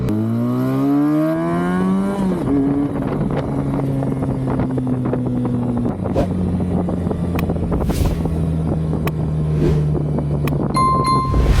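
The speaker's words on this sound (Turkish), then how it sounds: "Motorumuz ok gibi gidiyor." A Benelli TNT 250 motorcycle engine while riding, revs climbing for the first couple of seconds before settling into a loud, steady droning pull with heavy wind rush and no talking.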